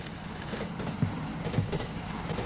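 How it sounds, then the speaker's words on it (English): In a horror video game, a body being dragged makes a steady low grinding rumble with faint rhythmic clatter. The sound is continuous and moderately loud, and nobody speaks. "It's the body being dragged."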